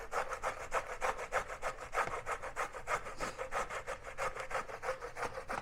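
Hand grinding in a manual grinder during Sunday food prep, a fast regular rasping churn of repeated scraping strokes, close and steady, with no one speaking.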